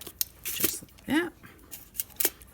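Scissors clip off a metal book corner piece in a few sharp snips close by, with a brief voice in between.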